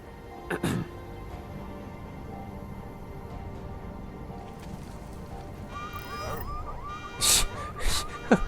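Car alarm set off by searching a car trunk in Deus Ex: Mankind Divided, a wavering electronic wail that builds in the second half, with sharp clunks and bursts before and after.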